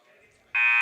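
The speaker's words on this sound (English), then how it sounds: "Salinas of Saddlebrook trying to get to the first period buzzer." The first-period buzzer at a high school wrestling match between Bergenfield and Saddle Brook blares suddenly and steadily, loud and sustained after a quiet moment in the gym.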